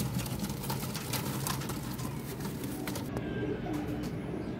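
Pigeons coo steadily in a loft of red-eyed birds, their soft repeated calls layered over a constant low background noise, moderately near and without speech.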